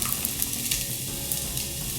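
Gochugaru chili flakes, about a teaspoon and a half, sizzle and fry in hot oil with a dense, steady crackle and small pops over the full two seconds, close and fairly loud.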